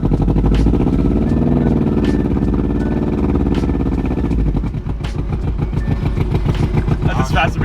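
Honda Civic with a swapped-in B-series engine driving down the road on its first run, a loud continuous engine drone rising into a rapid pulsing rumble, with voices talking over it.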